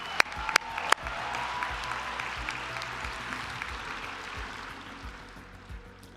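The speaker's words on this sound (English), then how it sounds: "we should be clapping a little more, right?" Graduation ceremony crowd claps at a commencement, a few sharp nearby claps at first, then a broad, steady wash of distant applause that gradually fades.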